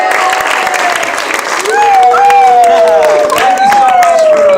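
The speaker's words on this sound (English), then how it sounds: "Give these guys another round of applause." Audience applause and clapping continue at a stand-up comedy show while a voice talks loudly over the crowd.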